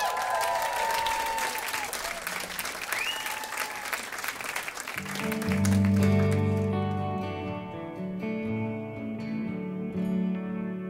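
A concert audience at Ancienne Belgique gives warm applause, dense clapping for about five seconds that then fades as a band begins playing music with sustained tones.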